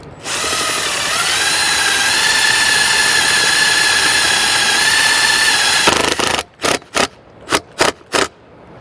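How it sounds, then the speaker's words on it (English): Power drill with a 5/16 socket driving chrome self-tapping screws into an RV slide-out awning bracket, one long steady loud whine followed by several short separate bursts. "These are going to be the chrome ones, and we'll use a 5/16 socket to secure those."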